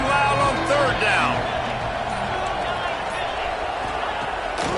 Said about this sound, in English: this crowd bearing down and getting loud on third down